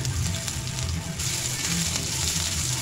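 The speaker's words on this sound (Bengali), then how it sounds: "আদাটা একটু ভেজে নিচ্ছি।" Ginger paste frying in hot oil with bay leaf, dried red chilli and five-spice seeds, a loud, dense, close sizzle that holds steady for a few seconds.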